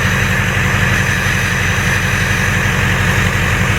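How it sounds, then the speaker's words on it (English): A Ford Powerstroke 6.0 diesel truck with an upgraded exhaust roars in a steady, loud, jet-like drone with a turbo whine, heard from behind the truck with no other sounds breaking through. "I can hear the jet, it's like the jet engine sound all the way back here."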